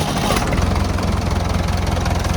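A diesel forklift engine idles loud and close, a steady low throbbing rumble with a faint knocking pulse, no voices over it.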